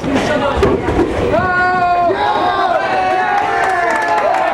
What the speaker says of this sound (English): It's a nice cheer from the fans there